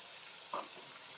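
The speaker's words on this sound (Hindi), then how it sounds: "इसको हमने चिकन के साथ इतना फ्राई करना है कि टमाटर जो है वो अच्छे से टेंडर हो जाए हमारा।" Chicken frying in a pan with tomatoes and green chillies, a faint steady sizzle with one brief louder spatter or stir partway through.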